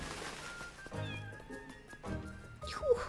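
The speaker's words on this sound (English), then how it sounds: "that cat meow was so cute" A cat meows several times in the video game Little Goody Two Shoes, with short, clear, fairly close mews and a rising cry at the end, over quiet game ambience.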